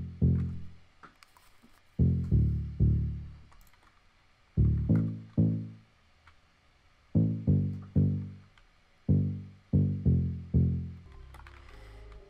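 Synth bass line, an analog-style sample, plays a rhythmic run of short, deep plucked notes in repeating groups, each note decaying quickly, with no other sounds over it.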